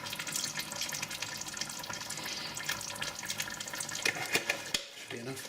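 A splash of milk is poured into simmering Bolognese ragù, giving a steady, close liquid hiss and gurgle that runs throughout, with a brief dip near the end.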